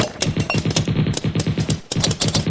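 Rapid automatic gunfire rattles in a fast steady burst, close and loud, with a brief pause before firing resumes.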